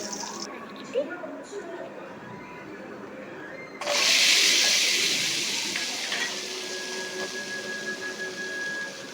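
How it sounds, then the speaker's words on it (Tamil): Small shallots and garlic hit hot oil already tempered with fenugreek seeds, and a sudden loud sizzle bursts up. The hiss stays strong, then slowly settles into a steady frying crackle, with a person talking over it. "எண்ணெய் ஊற்றி வெந்தயம் போட்டு தாளிச்சிட்டு உரித்து வச்சுருக்க சின்ன வெங்காயம் பூண்டு போட்டு நல்லா வதக்குவோம்"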